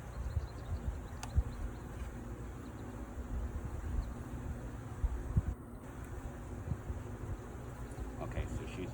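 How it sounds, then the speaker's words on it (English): Honey bees swarm around an open hive frame at Ambler Farm, making a continuous low droning buzz that stays steady and fairly faint throughout, with soft rustling and faint handling sounds mixed in. "The bees are working their way out to the outside."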